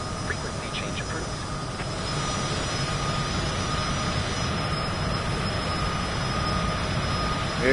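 A steady, broad jet-engine roar from an airliner in Microsoft Flight Simulator 2024 holds at an even, moderate level throughout, swelling slightly at the very end.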